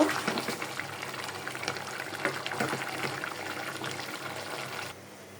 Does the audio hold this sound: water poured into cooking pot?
yes